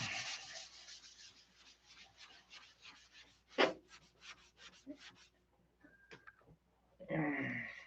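Fine 5000 grit sandpaper rubbing back and forth to flatten a surface, a steady series of soft close scratchy strokes with a brief louder scrape partway and a stronger rasp at the end.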